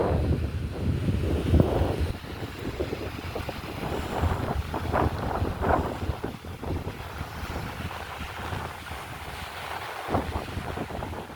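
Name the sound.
sea waves at the beach near Burj Al Arab, Dubai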